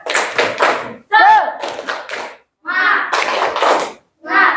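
A sixth-grade elementary class claps the tepuk semangat chant, bursts of patterned hand claps broken by short pauses, with children and a teacher calling out between the rounds.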